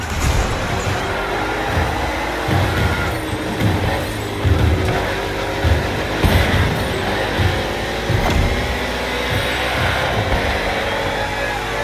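Stock cars racing on an urban NASCAR street circuit in Honolulu, Hawaii, in The Crew Motorfest, a steady loud engine roar with rhythmic swells as cars pass and shift, continuous throughout.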